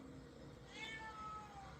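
A single cat meow played back from a phone recording, faint and brief against a quiet room hum.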